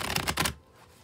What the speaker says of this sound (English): I'll shuffle till it feels ready, then we'll cut and deal right off the top